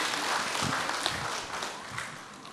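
A mosque congregation at an evening religious gathering applauds, a dense wash of many hands clapping together, steady and moderately loud before tapering slightly at the end.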